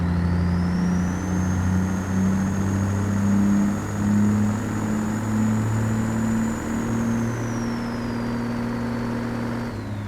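Simulated Caterpillar 3406 engine in a heavy truck hauling a scraper drones steadily as it is revved out, a low sustained hum held for several seconds under a thin high whine that slowly rises and falls, with no talking.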